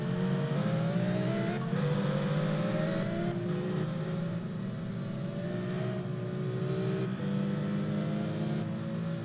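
Sports car engine in the Simraceway racing game during a quick race at Guangdong, revving steadily with rising and falling pitch as the car shifts through gears, loud and continuous with no voices.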